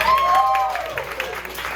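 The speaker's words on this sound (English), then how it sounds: "Round of applause for Sophie." Crowd applause breaks out at a comedy improv show, with brief clapping mixed with voices and cheering over a short moment.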